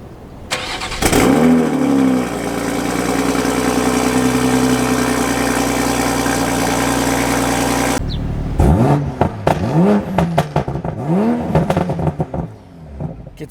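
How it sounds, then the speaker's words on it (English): Toyota Supra cold start: the engine cranks and catches, holds a high steady idle for several seconds, then revs sharply in a series of quick blips, loud and close. "Let's give you guys a nice little cold start before we run over there."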